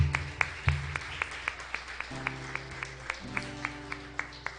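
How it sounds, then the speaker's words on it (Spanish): Regular, evenly spaced claps from a church congregation ring out with a steady beat over sustained organ or keyboard chords, fairly faint and rhythmic rather than a dense burst of applause. "Podemos dar un aplauso fuerte a nuestro buen Dios."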